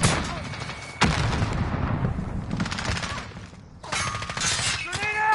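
A grenade explodes during a Call of Duty Modern Warfare multiplayer match, a sharp crack and rumbling boom amid continuous gunfire and battle noise, followed by further bursts of shots.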